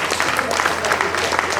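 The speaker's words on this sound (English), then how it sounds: "I think he deserves another round of applause." A conference audience applauds steadily for a presenter, a dense, even wash of clapping hands filling the room without a break, close and fairly loud.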